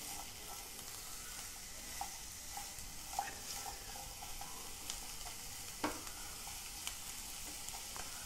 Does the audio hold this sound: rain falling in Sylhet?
no